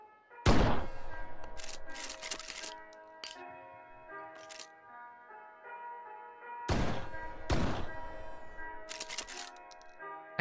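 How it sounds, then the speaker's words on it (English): Volcanic pistol gunshots in a video game: two separate clusters of sharp, loud cracks a few seconds apart, each a quick run of shots over a faint ringing musical background, with quiet gaps between. "Oh, I love the volcanic pistol actually."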